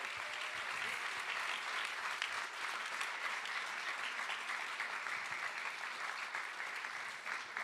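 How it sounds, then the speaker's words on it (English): A panel-event audience applauds the panelists in a long, steady wash of clapping that stays at an even level throughout, with no voices rising above it. "can we get a huge round of applause for our amazing panelists for joining us?"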